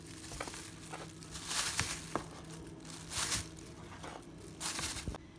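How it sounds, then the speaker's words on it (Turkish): A soft plastic freezer bag crinkles as sliced bananas go in, several brief bursts with small crackles and rustles between them, fairly quiet and close. "Doğradığımız muzları bir dolap poşetine bırakıyoruz."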